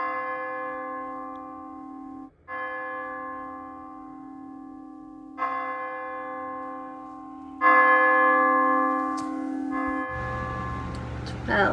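Church bell chimes ring out in slow, sustained strokes, each tone swelling and ringing on, with a rustling, muffled disturbance entering near the end, heard during a staged school production of A Christmas Carol.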